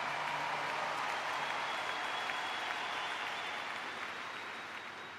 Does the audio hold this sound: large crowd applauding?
yes